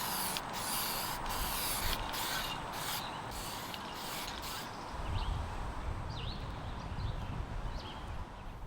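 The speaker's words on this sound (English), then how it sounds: "I'll quickly spray on a thin coat of metallic guitar lacquer" Bursts of hissing spray from an aerosol can of metallic guitar lacquer onto a wooden 1930s Art Deco dresser come in short repeated blasts, followed by rustling and handling noises.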